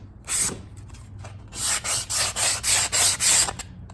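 Sandpaper rubbed by hand along a wooden gaming shelf, one short stroke followed by a steady run of six or seven loud, evenly spaced back-and-forth scratching strokes, close and without talking.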